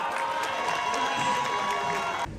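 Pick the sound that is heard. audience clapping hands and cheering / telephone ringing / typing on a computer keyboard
audience clapping hands and cheering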